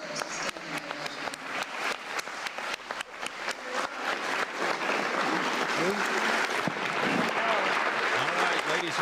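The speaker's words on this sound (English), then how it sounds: "thunderous applause" A dinner audience bursts into thunderous applause, dense sustained clapping that starts in rapid ragged waves and builds into a full, roaring wash, with crowd voices mixed in.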